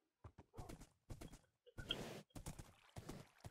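Horse hooves clip-clop in Minecraft in short, irregular bursts of hollow knocks, fairly close and moderately loud, with brief pauses between clusters and a single whinny-like squeal partway through.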